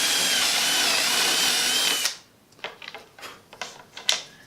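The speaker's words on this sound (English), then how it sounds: "so I don't get any tear out when the drill goes through" A power drill boring holes through wooden table stretchers, a loud steady whir for about two seconds, then stopping, followed by a few scattered knocks and clicks of wood being handled.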